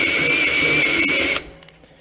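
A wire wheel spins against a fresh weld laid with a Lincoln Weld-Pak 140HD welder in a home garage. A loud, harsh, steady whirring scrub runs for over a second, then cuts off abruptly into quiet.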